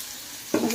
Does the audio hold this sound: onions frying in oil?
yes